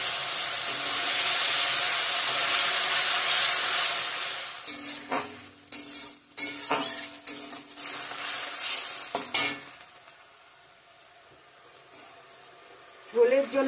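Tomato paste for a catla fish curry with potato and pointed gourd is stirred into a hot frying pan. A loud sizzle at first gives way to scraping stirs and softer bubbling, with brief clatters near the end.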